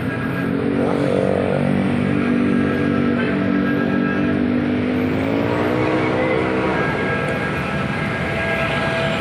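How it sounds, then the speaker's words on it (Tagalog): Steady road traffic rumbles near an overpass, a loud continuous engine drone with a vehicle's tone slowly shifting in pitch, and no break over the whole stretch. "Grabe, parang traffic."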